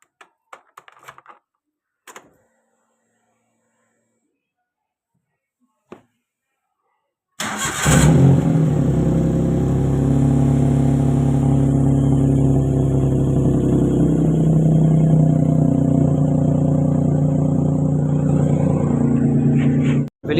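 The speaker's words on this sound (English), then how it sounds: "Now it has developed a peculiar sound which is coming out of, I believe, from the exhaust pipe." Suzuki Alto with a punctured exhaust pipe: after a few scattered clicks and quiet, the engine starts and settles into a loud, steady, raspy idle with a racing-car-like buzz that runs until it cuts off abruptly.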